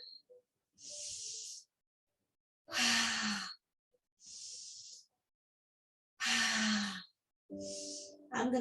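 Slow, audible breaths during a gentle pranayama yoga breathing practice, several long airy exhalations and inhalations spaced a few seconds apart, close and soft with quiet gaps between.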